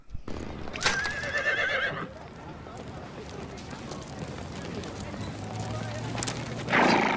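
A horse whinnies loudly near the start, with hoof clip-clops and street noise around it, and a second whinny follows at the end amid busy city background.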